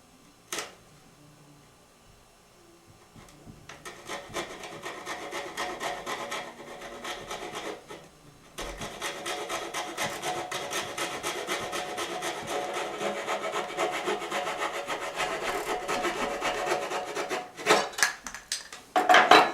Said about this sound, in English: using a coping saw, we're going to cut around the curve of the baseboard trim